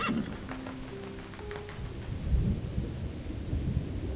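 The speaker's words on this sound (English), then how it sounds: "Rain poured down like a waterfall. Thunder lit up the sky," Rain pours steadily while a deep rumble of thunder rolls in partway through, heavy and close.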